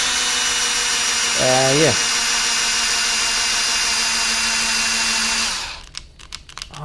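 A cordless hand drill works through a soft material used in making a tsuba, a loud steady whir that runs for over five seconds before winding down, followed by brief clicks and a short spoken word.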